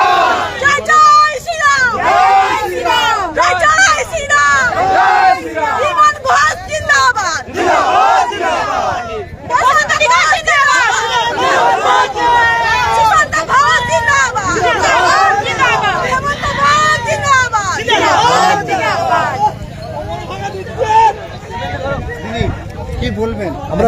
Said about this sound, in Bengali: এখানে কিন্তু আরো কয়েকজন মহিলা কিন্তু তারা স্লোগান দিচ্ছে